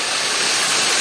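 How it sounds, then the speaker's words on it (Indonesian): Ramuan waterfall at Way Bernung, a loud, steady rush of falling water pouring into a clear pool, close by and continuous with no voices. "Ini air terjun Ramuan."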